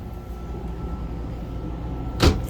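Inside a 2001 Four Winds Chateau 23J Class C motorhome, a drawer slides and bumps shut once near the end, a short close knock over a low steady background hum.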